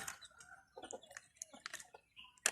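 Chickens cluck and squawk in short, scattered bursts, fairly close, with one louder squawk near the end.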